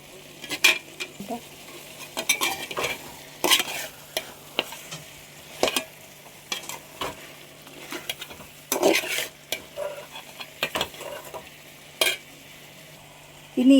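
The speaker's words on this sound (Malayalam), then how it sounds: "ഇനി ഇത് ചിക്കനിൽ നന്നായിട്ട് യോജിപ്പിച്ച് കൊടുക്കാം." Chicken curry stirred in a pan with roasted coconut masala, repeated bursts of spatula scraping and thick clattering stirring over a low sizzle, close and uneven in rhythm, with no talking.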